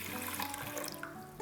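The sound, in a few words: pouring two cups of water into rice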